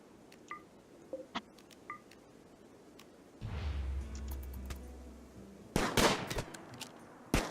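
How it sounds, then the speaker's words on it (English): Gunfire in RimWorld, scattered quiet single shots and short beeps, then a low rumble, and later a loud cluster of sharp cracks near the end. "Keep shooting, keep shooting."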